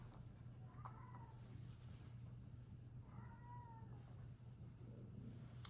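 A pet cat meows twice, moderately close, each call a short drawn-out complaint separated by a few seconds, over a steady low hum in a quiet room.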